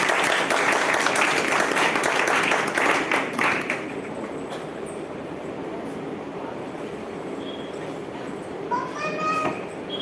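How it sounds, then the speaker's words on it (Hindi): A church congregation in a hall bursts into loud, dense applause that lasts about four seconds, then settles into a quieter murmur of room noise. "यीशु मसीह के लिए जोरदार तालियां बजाएं।"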